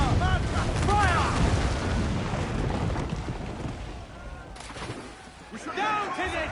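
Naval battle in Assassin's Creed 4 Black Flag: deep cannon booms roll and rumble close by, fading and then returning, with shouting crew voices layered over the blasts.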